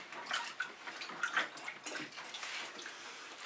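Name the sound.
water running while rinsing fingers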